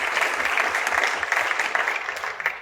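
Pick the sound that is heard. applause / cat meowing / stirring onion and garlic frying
applause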